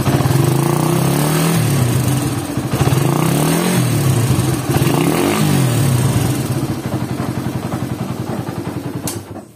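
Suzuki Satria FU motorcycle in poor condition with many faults, its engine idling close up with a loud, rough, uneven rattle and slight rises and dips in revs throughout.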